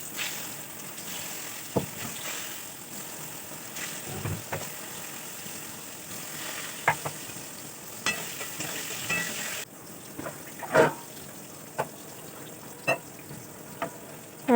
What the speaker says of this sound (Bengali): পটলগুলো ভেজে নিচ্ছি